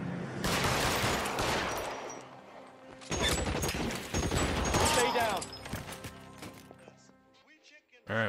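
Gunfire in the detective video game L.A. Noire: loud bursts of rapid shots with crashes and echoing reports, coming in clusters then thinning out, with a final sharp shot at the end.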